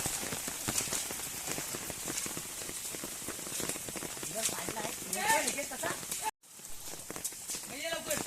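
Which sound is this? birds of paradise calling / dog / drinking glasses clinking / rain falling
rain falling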